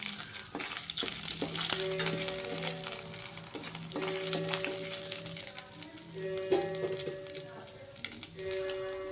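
Chana dal and urad dal fry softly in a pan with a light, continuous sizzle and scraping stirs, fairly faint, with steady tonal hum in the background.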